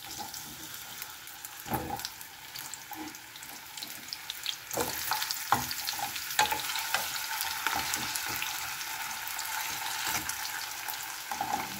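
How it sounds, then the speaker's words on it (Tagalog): Potatoes frying in oil in a home kitchen, a steady broadband sizzle with scattered crackles and pops throughout, growing slightly louder after the first few seconds, close and continuous with no talking. "Piprito natin ang ating patatas."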